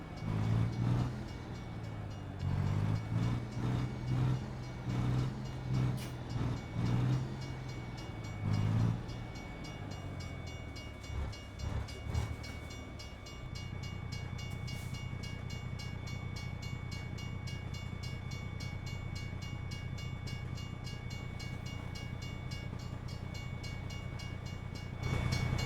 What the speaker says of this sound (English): Looks like we got the end of the train here.